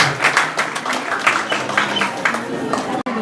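A crowd claps at a village Independence Day celebration and prize-giving, producing a steady run of rhythmic, fairly close hand claps that carries on for a few seconds with voices mixed in underneath.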